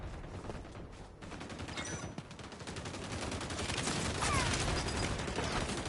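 Rapid gunfire from the XDefiant shooter game, dense bursts of automatic fire rattling continuously and close throughout, growing slightly louder toward the end with no talk over it.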